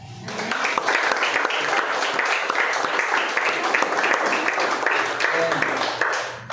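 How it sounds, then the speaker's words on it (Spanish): A room full of people breaks into sustained, loud applause at a Holy Week cultural event, lasting several seconds, with a few voices mixed in before it tapers off. "Vamos a dar un fuerte aplauso a Papá Dios"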